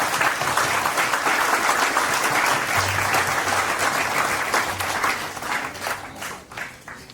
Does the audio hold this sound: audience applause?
yes